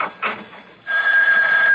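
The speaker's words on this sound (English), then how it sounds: "That ringing is driving me mad" An old telephone rings with a harsh electric trill that breaks off briefly, then returns and carries on continuously, loud and close, with no voice over it.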